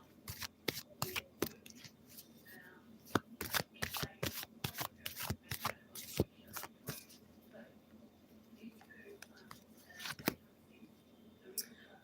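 Tarot cards being shuffled and drawn make a rapid series of sharp, close flicks and slaps, bunched in a flurry and then thinning out, with soft rustling between them and only faint speech.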